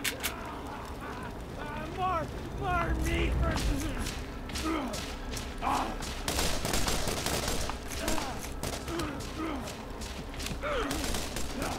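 Machine gun fire in the Borderlands video game crackles in rapid bursts of short sharp shots, some creaking mechanical effects mixed in, under people talking.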